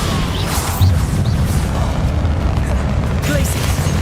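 Spell explosions from the Hogwarts Legacy video game come as a dense, loud series of booms and crashes that run nonstop without a break.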